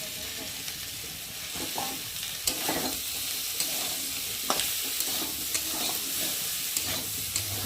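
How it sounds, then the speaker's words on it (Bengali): Fried cauliflower pieces go into a pan of spiced masala and are stirred, giving a steady, fairly soft sizzle broken by scattered scrapes and clicks of the spoon against the pan. "এবার দিয়ে দেবো ভেজে রাখা ফুলকপি"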